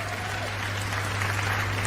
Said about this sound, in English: you see how they clapping?